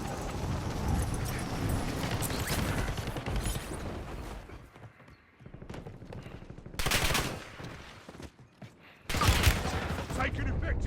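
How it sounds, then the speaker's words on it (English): Gunfire in the online shooter Warzone: loud, rapid bursts of automatic fire roll across the scene, broken by a brief quieter lull, then sharp renewed volleys near the end. "Taking effective fire."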